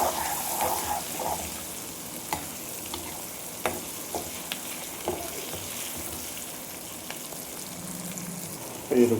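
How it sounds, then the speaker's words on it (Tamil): Onions sauté with turmeric in a pan for a curry leaves chicken curry. A steady sizzle of frying continues throughout, with occasional stirring scrapes and light clinks, close and alone. "இப்போ மஞ்சத்தூள் பச்சை வாசம் போகிற வரைக்கும் நல்லா வதக்கிக்கலாம்."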